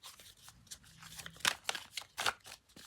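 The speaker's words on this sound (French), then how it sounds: "on va essayer de tirer 3 cartes" Oracle cards drawn one by one from a deck, giving soft papery flicks and slides in short bursts with a quiet room behind and no talking.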